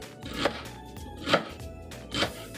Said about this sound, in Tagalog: Ngayon, ang una nating ikat ay itong ating ginger.